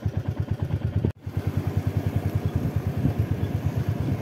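Motorcycle riding a mountain road in Ladakh near Lamayuru, its engine thumping in a steady rapid pulse, loud and close with wind and road rumble, with a brief dropout early on.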